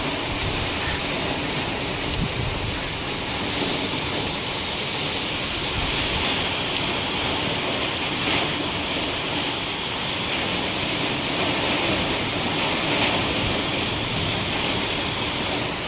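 Heavy rain pours down in a dense, unbroken hiss, steady and loud throughout, with no voices.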